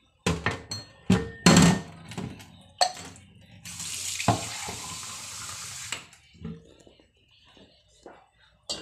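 Water poured from a tap into a pot of chicken tinola, a steady splashing pour of a couple of seconds after scattered clinks and kitchen handling, with a soft voice speaking nearby.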